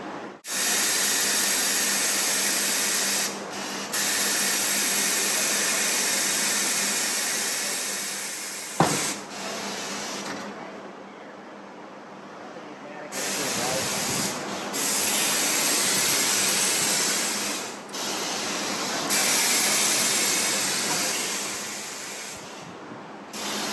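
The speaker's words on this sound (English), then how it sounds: "gonna break the bead. It's gonna get the tire off the rim, off the bead of the rim." A tire changer machine breaks a tire's bead off the rim with loud, steady hissing and rasping, interrupted by a few short pauses and one sharp clunk partway through.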